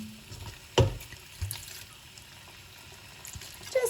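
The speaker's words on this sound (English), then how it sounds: "now I'm going to add that wine as well." Wine is splashed into a pan of vegan slow-roasted tomato sauce: a short liquid pour with a couple of brief clatters, close and fairly quiet, with no talk.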